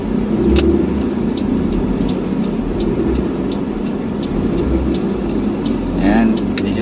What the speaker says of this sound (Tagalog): traffic talaga tong lugar mga idol.